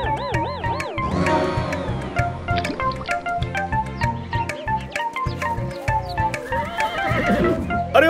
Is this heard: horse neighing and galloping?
yes